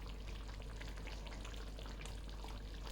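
Prawn and mango curry with drumstick simmers in a pot while being stirred, giving a steady, dense bubbling hiss with soft scraping that runs evenly throughout, close and fairly loud.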